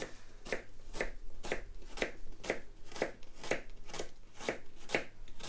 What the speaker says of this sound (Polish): przechodzimy do krojenia cebuli